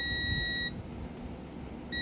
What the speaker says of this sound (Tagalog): Buzzer. Pag yung nagte-test ka ng continuity, tulad yan,